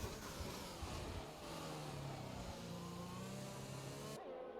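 A single-seater racing car in a sim racing game revs quietly through the Portuguese Grand Prix, its engine note rising and stepping between steady tones. The sound is a faint, continuous whine with no talking over it, ending abruptly.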